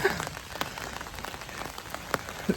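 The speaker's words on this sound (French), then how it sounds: "On se balade, mais il pleut, des cordes." Heavy rain pours during a walk on castle grounds, a dense, steady patter close by with scattered louder drops striking surfaces, and no voices.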